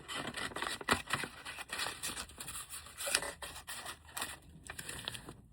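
Scissors snip through a fabric scarf being cut into a shirt, making a series of irregular, close, fairly quiet cuts and rustles.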